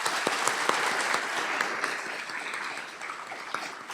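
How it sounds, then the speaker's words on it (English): An audience at a chemistry department graduation ceremony applauding, a dense, steady round of clapping from many hands that tapers slightly toward the end. "Let's give those folks a round of applause."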